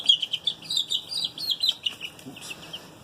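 Pet chicken McNugget squawking in a rapid run of sharp, high calls, close and fairly loud, with no talk.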